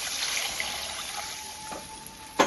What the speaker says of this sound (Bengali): এবার একটু মিশিয়ে নিয়ে আমি এর মধ্যে দিয়ে দেবো জল